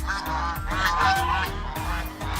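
Geese on a small farm honk loudly at a newcomer, their harsh calls repeating and overlapping at close range over a steady low rhythmic background.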